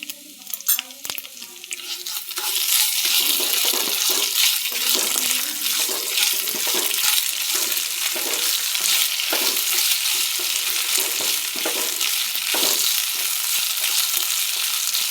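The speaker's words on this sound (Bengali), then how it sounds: "আদা দিয়ে বেশিক্ষণ ভাজবো না" Rice and grated ginger fry in a pan with a loud, bright, continuous sizzle that starts after a couple of seconds of light stirring clinks, with scraping stirring sounds through it and no talking.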